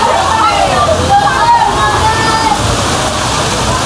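Floodwater rushing and sloshing after heavy rain, a loud, dense continuous wash of water close by, with faint voices in the background.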